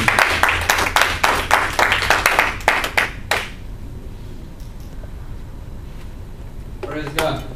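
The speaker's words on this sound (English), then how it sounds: "give us a round of applause. Let's clap." A church congregation claps along in quick rhythmic bursts, close and loud, for about three seconds. The clapping stops abruptly, leaving quiet room tone, and a voice speaks briefly at the end.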